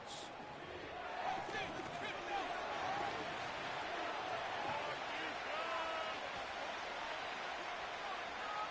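Stadium crowd noise from an EA Sports NFL video game builds into a continuous roar on third down and holds steady under a commentator's voice.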